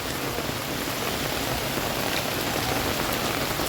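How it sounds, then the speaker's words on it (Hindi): Steady, dense downpour of heavy rain, a continuous loud hiss of drops pounding surfaces with no pauses and no voices. "देखो, हाँ बहुत तेज बारिश है, बहुत तेज।"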